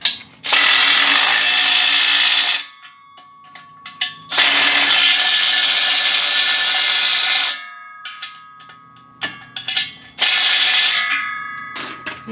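A ratchet with a 17 mm socket tightens a nut on a UTV/ATV seeder, sounding in three long, loud, rapid clicking runs separated by short pauses and a few single clicks.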